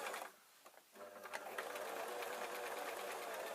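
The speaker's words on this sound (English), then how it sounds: "I'm just sewing round the outside" A sewing machine stitches a strip around the heel of a reflexology heat-pocket slipper, starting after a short pause and then running as a steady, close mechanical whir.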